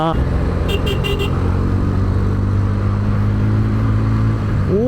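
A Bajaj Pulsar N160 motorcycle engine runs loud and close, a deep droning rumble that rises briefly at the end, with a short burst of horn beeps early on and a voice talking throughout.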